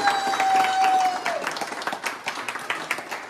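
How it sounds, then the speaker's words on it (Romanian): A small group of guests claps at a family birthday celebration. The brief applause follows a short whistle-like tone and is loose and uneven, fading slightly toward the end. "Aplauze!"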